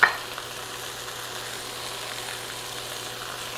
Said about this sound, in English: All right, we're going to stir this around